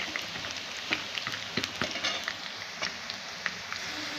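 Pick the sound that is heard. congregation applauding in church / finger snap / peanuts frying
peanuts frying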